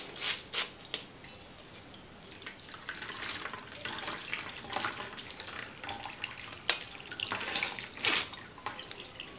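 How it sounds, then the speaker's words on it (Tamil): Hot water poured into country crab soup (nandu rasam) to flush it through a cloth filter, giving a steady trickling, splashing pour with a few louder gushes throughout, close by and with no talk. "இப்போ நல்லா ஹாட் வாட்டர் இதில் ஆட் பண்ணிக்கலாங்க."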